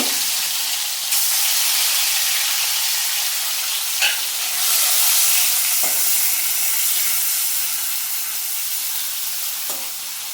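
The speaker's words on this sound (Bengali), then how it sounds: "তেল গরম হয়ে গেছে, কড়াই তেল দিয়ে রেখেছিলাম। চিংড়ি মাছটাকে ভেজে নেব।" Prawns sizzle and spit loudly in hot oil, a steady bright crackle close by, with a few soft knocks of a utensil in the pan.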